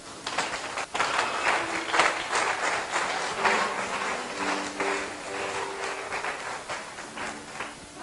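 A church congregation claps and cheers together in a sustained, dense burst of applause, with faint voices mixed into the steady crowd noise.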